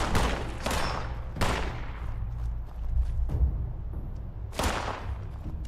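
Gunfire in Fallout 76: four loud, sharp shots spaced about a second apart, each ringing out with a long decaying tail over low rumbling game ambience.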